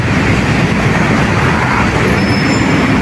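A Yellow Line train rumbling past near a skywalk, a loud steady roar of wheels on rail with faint high squeals toward the end, continuous and close, no voices.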